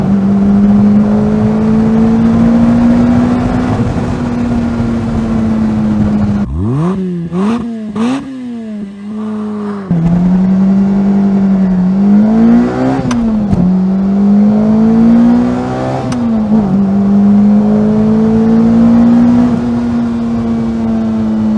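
A Lotus Elise S2 111R sports car drives hard, its engine a loud steady drone that rises and falls as it revs and shifts, heard from inside with brief dips and clatter midway.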